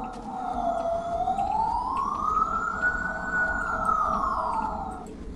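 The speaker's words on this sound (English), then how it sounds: "Come on, Siren Head." Siren Head creature's wailing siren in a horror video game, one long loud tone sweeping slowly up and back down over several seconds, steady and close, with no talking.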